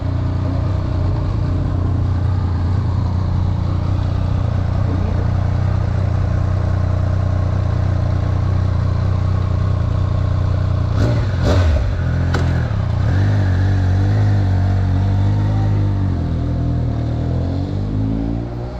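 A motorcycle engine runs steadily and loudly close by, with a deep continuous drone, brief clattering knocks midway and no voices.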